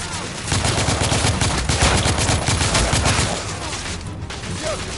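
Dense, sustained gunfire from the PS4 third-person shooter The Order: 1886, with rapid overlapping bursts and booms that stay loud and continuous throughout, like a full firefight with automatic weapons.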